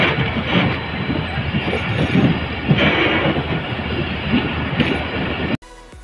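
The Shah Latif Express runs on rails between Karachi Cantt and Drigh Road, a loud steady rumble of wheels and carriages with faint rhythmic clatter, close by, cutting off abruptly near the end.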